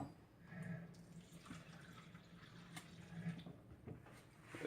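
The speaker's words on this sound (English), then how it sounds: "I'm going to start with a half a cup of water." Water poured into a bowl of wheat gluten mix for seitan, a soft trickling and splashing close by with faint drips, steady but quiet throughout, no talking.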